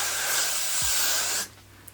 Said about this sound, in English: So now I'm gonna go in with the Got To Be Blasting Freeze Spray for an extra hole.